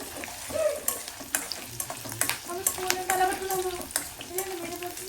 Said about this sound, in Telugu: పల్లీలు చిటపట అంటుంది